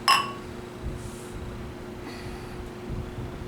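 Beer glasses filled with a Festbier clink once in a toast, a bright short chime right at the start, followed by quiet room tone and soft faint shuffling.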